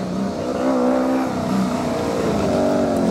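Formula SAE race car driving at an outreach testing event, its engine droning steadily with shifting tonal pitch, loud and close throughout, no voices.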